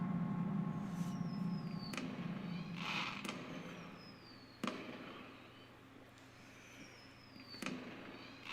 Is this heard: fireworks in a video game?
yes